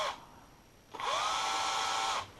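A small drill spins a finishing nail used as a bit into wood, a brief whine followed by a sustained high-pitched whir that stops sharply after about a second.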